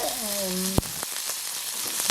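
A steady, hissing sizzle of small onions frying in hot oil runs throughout, with a brief voice at the start and a sharp clink partway through.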